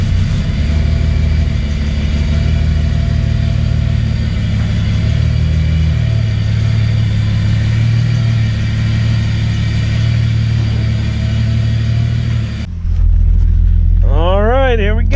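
Toyota Supra MK3 engine with a boost controller running in a garage, a loud steady idle that holds for most of the stretch, then a shift near the end with a rising and falling whine.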